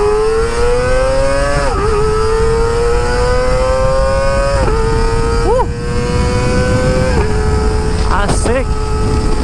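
Kawasaki ZX25R motorcycle with an Akrapovic exhaust revs loud and close, its engine note climbing steadily in pitch, then dipping sharply at each gear change during up and down shifts, several times in a row under a steady roar.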